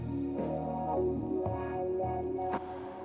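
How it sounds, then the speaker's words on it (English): A resonant synth tone with a vowel-like, sweeping filter; sustained notes change timbre with a few attacks, no voices. "it starts to give it that kind of vowely body sound"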